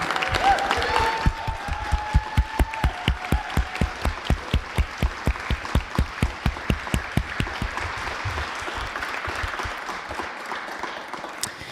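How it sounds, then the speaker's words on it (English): An audience at a school district candidate forum claps for the candidates, starting as scattered applause that turns into steady, rhythmic clapping in unison before fading, heard in a room with no talking. "Can we get a round of applause for our candidates, please?"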